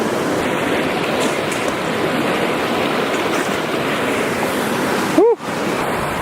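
Steady rushing of a fast-flowing glacial river at the base of a glacier in Norway fills the clip, broken briefly near the end by a short whistling tone and a bump.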